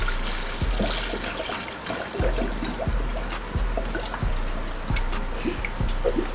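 Coolant pours steadily into a car radiator being filled on a Lexus IS300, in a close trickle broken by regular low glugging gulps about once every second.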